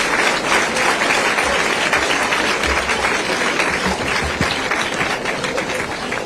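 Loud, sustained applause from a large audience at a college event after the Governor's address, dense clapping filling the hall steadily without a break.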